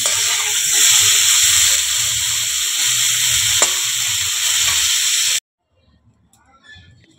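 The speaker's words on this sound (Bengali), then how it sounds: "ফুলকপি ভাজা চলছে" Cauliflower frying in a pan gives a steady, loud hiss and sizzle for about five seconds, with a brief click midway, then cuts abruptly to near silence.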